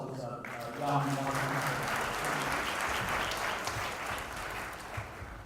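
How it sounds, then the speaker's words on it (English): Applause from an audience at a Tamil Heritage Month celebration, welcoming a young performer after a musical opening: steady, dense clapping at moderate level throughout, with music fading under it at the start. "How about another round of applause for this young"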